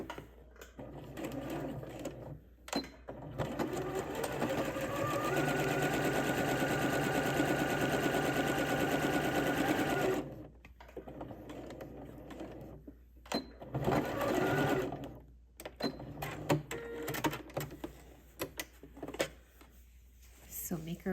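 A sewing machine stitching a trouser waistband around enclosed elastic for New Look 6271, a close, steady mechanical whir running in long continuous stretches with short pauses and a few stop-start bursts, while a person talks over it.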